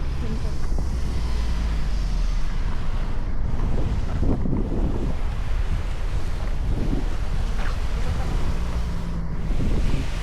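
Steady wind buffeting the microphone alongside rolling waves at the seaside on a cold day, a continuous, full roar with occasional louder gusts and no speech.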